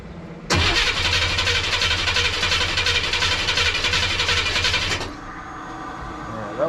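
A 1957 car engine with FiTech fuel injection cranking without starting, a loud continuous starter whir that kicks in near the start, runs steadily for about four and a half seconds, then cuts off.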